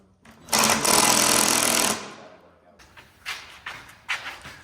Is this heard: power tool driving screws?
yes